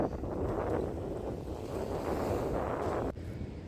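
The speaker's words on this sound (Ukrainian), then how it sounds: "трохи від моря відійшли, тому що вітер скажений, скажений" Strong sea wind on an Odesa beach roars steadily across the microphone, a dense, continuous rushing noise with a brief dip near the end.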